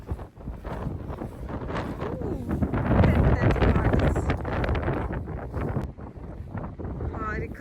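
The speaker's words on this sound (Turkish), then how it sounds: "The wind is crazy." Strong gusting wind buffets the microphone at The Gap, a natural rock bridge on the coast near Albany, Australia, a steady loud roar with bursts throughout and no clear voices.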